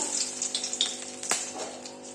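Dried red chilies and bay leaves hit hot oil in a pan, making a bright hissing sizzle with quick crackles and one sharp spit, heard close and continuous.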